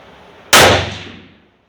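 A single loud rifle shot from a bolt-action gun firing hand-loaded ammunition at an outdoor range, a sharp blast decaying over about a second.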